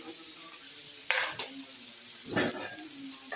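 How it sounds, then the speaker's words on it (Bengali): Faint steady sizzling of koi fish (climbing perch) frying in a pan, broken by a couple of brief scraping stirs of a utensil. "একটু উল্টে পাল্টে ভেজে নিব ভালো করে, এপিট উপিট করে।"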